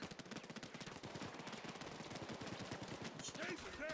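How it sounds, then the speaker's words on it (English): Rapid machine gun fire in Payday 2, a fast rattling burst of repeated shots running almost continuously, fairly close, with brief voice sounds near the end. "This machine gun."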